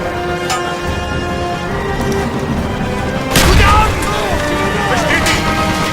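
Heavy gunfire and explosions from the Call of Duty: Black Ops campaign on Xbox 360, loud and dense with sharp shots and a big boom midway, over steady battle noise while soldiers shout.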